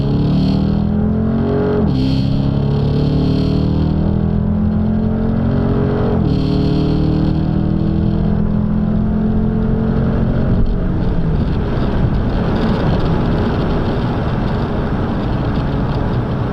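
A Dodge Charger Daytona accelerates hard down a quarter-mile drag strip, its engine roaring loud and close, rising in pitch through several gear shifts before flattening into a sustained high-speed drone.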